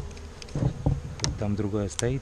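Buzzing of honey bees close by at a hive, a steady insect drone under someone talking.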